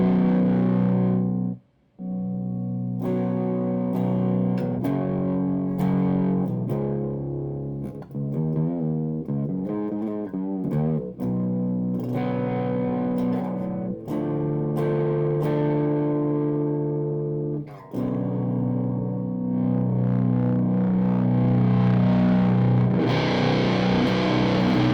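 Electric guitar run through a homemade Super Siberian Fuzz pedal with the volume knob turned down, playing loud, continuous, lightly cleaned-up fuzzy chords and riffs with two brief pauses.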